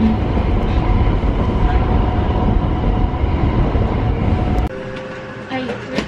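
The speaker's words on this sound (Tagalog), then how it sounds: "Nandito kami ngayon sa train station." Train noise at a railway station in Osaka, Japan: a steady, loud rumble of a train running alongside the platform that suddenly drops away to quieter station ambience with faint chimes near the end.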